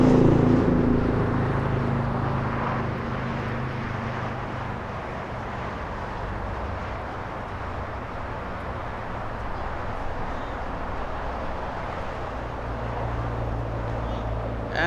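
An Air Tahiti Nui Boeing 787-9 departing Los Angeles International Airport, its jet engines a steady broad roar heard from a distance, slowly swelling toward the end, with someone talking over it.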